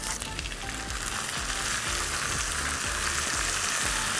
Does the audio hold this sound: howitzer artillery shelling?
no